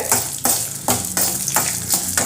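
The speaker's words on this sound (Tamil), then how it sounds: "இப்போ இதையும் வந்து நல்லா வந்து ஃப்ரை பண்ணி விட்டுருங்க." Dried red chillies and a slit green chilli frying and sizzling in oil in a pan, with steady crackling broken by repeated stirring strokes, loud and close, no talk.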